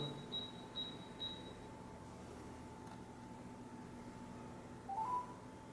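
Faint, quick telephone dialing tones come from a 9-inch Android touch-screen car head unit connected over Bluetooth: three short tones early on, then quiet hum and a brief chirp near the end.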